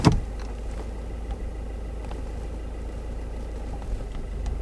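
A Subaru WRX engine idles steadily in first gear with a low, even hum, close by and alone.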